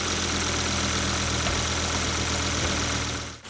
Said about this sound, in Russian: Мотор работает чисто, посторонних шумов из механизма ГРМ нет.